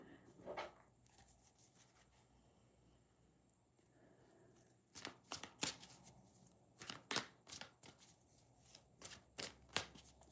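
Tarot cards are shuffled close up in quick riffling bursts, a few sparse ones at first, then a rapid series of crisp flutters with short pauses between.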